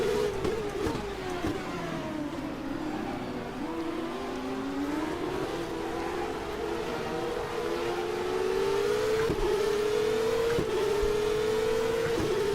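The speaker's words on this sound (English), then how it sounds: "Going down through the sequential gearbox." Racing car in Stock Car Extreme dropping through a sequential gearbox at high speed, a loud whining engine note sweeping down and back up with sharp cracks at each gear change.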